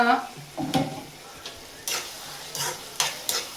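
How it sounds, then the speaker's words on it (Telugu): Tomatoes and onions frying in a pan for a broad bean curry, a soft sizzle under several sharp scraping stir strokes at irregular intervals, close by. "జ్యూస్ అంతా వదిలేసాయి బాగా ఫ్రై అవుతున్నాయి ఈ ఆనియన్స్ కూడా మంచిగా ఫ్రై అయ్యాయి"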